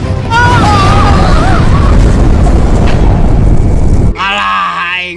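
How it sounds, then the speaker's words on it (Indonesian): A grenade blast in a Sundanese short film about soldiers, a loud continuous booming roar that fills several seconds, then cuts off to a brief wavering tone; voices can be heard faintly beneath the rumble. "Aduh, granat."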